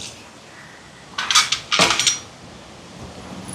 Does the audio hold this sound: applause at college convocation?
no